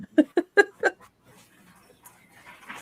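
An excited dog gives four quick, loud yips or barks in a burst, followed by faint whimpering and background rustle.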